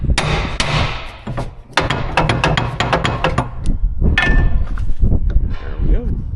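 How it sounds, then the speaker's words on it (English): A hammer pounds on a stuck part of a combine head, a splined piece jammed in the gearbox, with a run of loud, sharp metallic clangs in irregular bursts, some fast and close together, a few single heavy blows. "I have to beat on it. Need a bigger hammer."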